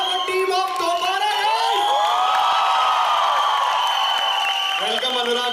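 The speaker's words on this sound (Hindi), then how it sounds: "जोरदार तालियां फॉर टीम ऑफ दोबारा" A college audience at the song launch of the film Do Baaraa cheers, whoops and claps loudly and continuously, with raised voices shouting over the crowd noise.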